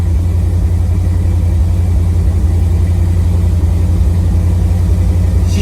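A 1979 Jeep CJ-7 engine runs steadily after a cold start with the choke fully off, a loud, continuous low rumble with an even idle pulse and no talk over it.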